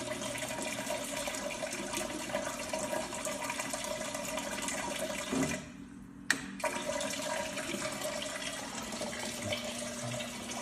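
Melted candle wax pours from a Pour X-Press 2000 wax melting and filling machine into a 10-ounce candle, a steady rushing liquid hiss with a short pause and a click near the middle.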